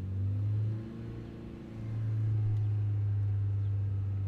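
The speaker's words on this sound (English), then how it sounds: "let's take it up to 3000 RPM" 2005 Skoda Octavia 1.8T 20V vRS engine with a lean-running idle fault, held at raised revs near 3000 RPM, giving a steady close droning hum that dips briefly and then settles at a higher, constant pitch.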